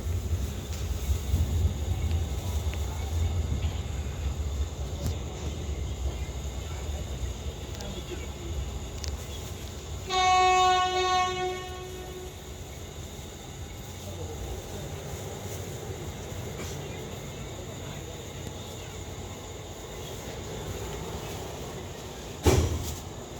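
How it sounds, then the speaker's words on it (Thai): A express train rumbles low and steady as it slowly pulls out of Rangsit railway station, with a brief horn tone partway through and occasional clanks. "รถค่อยๆเคลื่อนตัวออก โอ้ดูเสียง"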